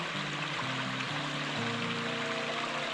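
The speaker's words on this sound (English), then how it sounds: "next to the creek" Creek water flowing steadily beside an overgrown bush hog in the woods, a continuous broadband rush with soft low tonal hum underneath, no talk.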